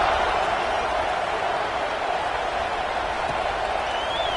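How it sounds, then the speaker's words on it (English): A stadium crowd in the College Football 26 video game, a dense continuous roar of cheering and buzzing that holds steady and loud throughout, with no distinct claps standing out. "this crowd is buzzing after that last score"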